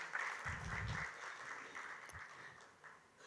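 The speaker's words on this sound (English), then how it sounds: "Let's have a round of applause for this amazing edition." Applause from an audience at a precision medicine conference awards event in India, a brief round of clapping that rises quickly and tapers off within a few seconds.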